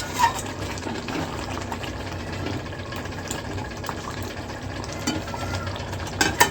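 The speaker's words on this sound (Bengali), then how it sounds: "এবার একটুখানি নেড়ে নেড়ে তারপরে আমি প্রেসারে দিয়ে দেবো" Mutton stirred in a karahi, with a steady low sizzle and soft scraping and clinking that continue throughout at close range, and no talking.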